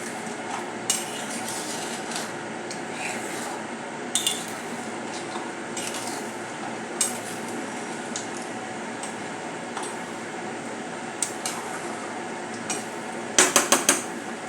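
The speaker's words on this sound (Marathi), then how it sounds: "मिक्स करून घेऊया" Crab curry stirred in a pot, with scattered metallic clinks and scrapes of the spoon against the pot over a low background, ending in a quick cluster of sharper knocks.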